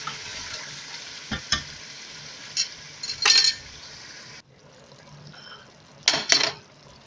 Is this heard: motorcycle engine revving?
no